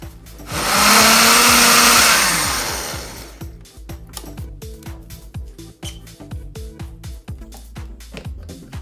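A blender whirs loudly for about three seconds as it purees vegetables and fruit into a smoothie, then cuts off, leaving clattering and light handling noises.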